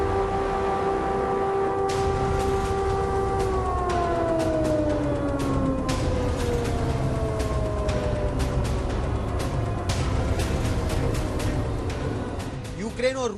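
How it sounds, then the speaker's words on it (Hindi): Air raid sirens sound over the city of Lviv during a Russian rocket attack, a loud sustained wail with rising and falling pitch, heard under a voice. "सायरन गूंजते रहे।"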